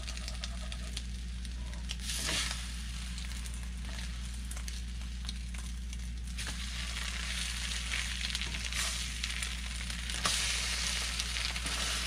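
An egg cooking on bread in a frying pan sizzles steadily, a soft continuous crackle with occasional louder pops and spatters, heard alone at close range.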